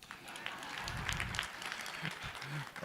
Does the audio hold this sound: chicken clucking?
no